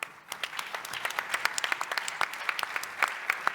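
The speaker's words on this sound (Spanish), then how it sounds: "Le damos un fuerte aplauso." Applause from an audience at a health innovation summit panel in Chile, a dense patter of many hands clapping steadily throughout, close and moderately loud, with no voices over it.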